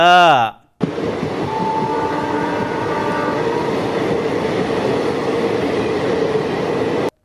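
A train at a railway station gives a loud, steady rumble and clatter that runs unbroken for about six seconds, after a brief voice at the start.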